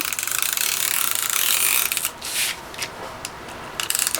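A tape runner drawn along a paper envelope, giving a quick ratcheting, clicking rasp for about two seconds, then a few short scattered clicks. The sound is close and dry, with no talk.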